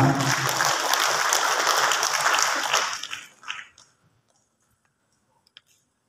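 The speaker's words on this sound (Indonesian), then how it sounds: "mari kita beri tepuk tangan yang paling meriah kepada ketiga narasumber kita" An audience at a pre-election national forum held by regional police applauds three speakers, a burst of loud clapping for about three seconds that quickly dies away into near silence with a few stray claps.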